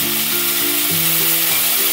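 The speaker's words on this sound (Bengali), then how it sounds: "দিয়ে খুব ভালো করে আমি লাল করে ভেজে নেব" Chicken pieces for a cabbage-and-chicken curry fry in oil in a pan over a medium gas flame, giving a strong, continuous sizzle with a faint steady hum beneath.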